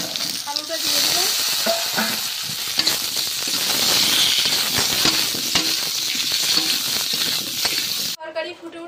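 Potatoes drop into hot oil already holding onion, green chilli and ginger-garlic paste, giving a loud, steady sizzle with light metallic clinks of stirring that cuts off abruptly at the end.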